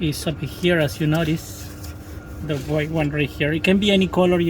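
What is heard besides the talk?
No distinct noise like a dog, phone or traffic.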